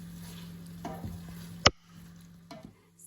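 Butternut squash and bacon cook in a pan with a low, steady sizzle, broken by a sharp clack and a few stirring scrapes of a utensil.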